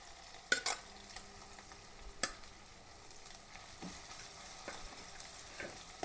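Crushed ginger frying in a pan for fish curry, giving a soft, faint sizzle with scattered stirring scrapes and clinks from a utensil close by. No one speaks.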